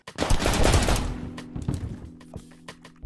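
Automatic gunfire in the game Intruder bursts out loudly for about a second, then drops to scattered, fainter single shots and thumps.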